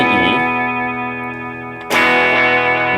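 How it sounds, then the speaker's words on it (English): An electric guitar with heavy tube-drive distortion plays an octave riff: one chord rings and fades, then a second hard strike cuts in loud and sustained, with no talking. "you're going to do it with the tube drive on."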